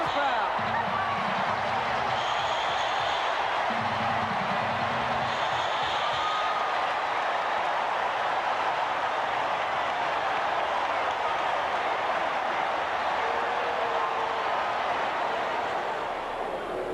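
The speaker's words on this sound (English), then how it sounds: "Listen to the crowd." Baseball stadium crowd at the 1988 ALCS Game 3 roaring and applauding after the game-ending strikeout, a dense, sustained wash of cheering from a large crowd, with a broadcaster's voice briefly over it.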